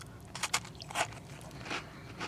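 Someone bites and chews a crunchy Walmart Great Value chocolate chip cookie up close, making several sharp crisp crunches in quick bursts and then softer crackling chews, with no talk.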